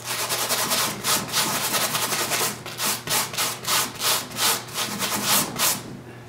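A steel wire brush is scrubbed hard across Xorel wall covering, making a rhythmic series of rasping back-and-forth strokes, loud and close, with no talking.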